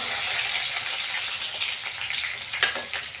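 Tempering for kanda batata poha crackling and spluttering in hot oil in a pan, a steady close sizzle with a few sharp pops near the end, no talk.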